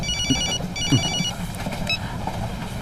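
A telephone bell rings in two short electronic bursts, followed by a brief third chirp, clear and close over a low room background with no talking.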